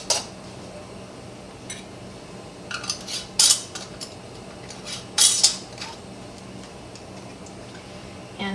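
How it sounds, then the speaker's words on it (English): Glass canning jars set into a water bath canner, a few sharp clinks and knocks of glass against metal at irregular intervals over a low background hum. "And add our jars to our canner"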